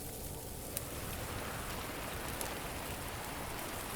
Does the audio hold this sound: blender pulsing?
no